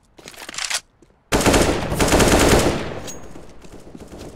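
Rapid automatic gunfire from the video game Counter-Strike: Global Offensive: a short loud burst, a brief pause, then a longer sustained volley that tapers off, with no talk over it.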